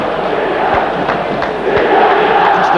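A large football stadium crowd at a 1988-89 European Cup match between Milan and Real Madrid keeps up a continuous, distant roar and murmur, steady throughout with a few faint shouts.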